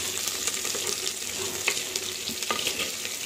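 Vegetables for a drumstick and shallot sambar sautéing in a clay pot, a steady soft sizzle with faint stirring scrapes and a couple of brief clinks, continuous and fairly quiet.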